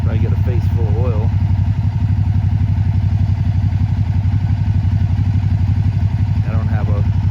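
A 2012 Can-Am Spyder RT-S three-wheeler engine idles with a steady, loud, fast-pulsing rumble, while someone talks briefly over it near the start and again near the end.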